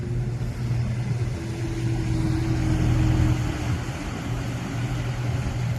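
A John Deere 5020 tractor engine rumbles steadily at low pitch as it pulls out across a farmyard, moderately close and fairly even with a slight swell midway.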